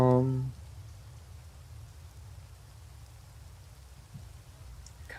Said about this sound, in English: Kind of sounds like rain, but we're in a snowy place.